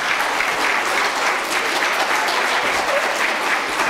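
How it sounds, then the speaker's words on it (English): An audience of listeners at a public library event breaks into applause, a dense, loud, steady wash of clapping hands that fills the whole moment without any talk. "Give yourselves a round of applause."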